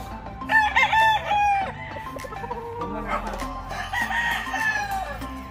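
A gamecock crows several times close by at a gamefowl farm in Nueva Ecija, Philippines, its harmonic calls rising and falling, with people talking and clucking fowl in the background.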